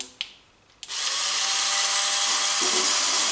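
A Turbo Scrub cordless power scrub brush whirs to life on its low setting after a couple of clicks, then runs at a steady, loud, high-pitched buzz without pause.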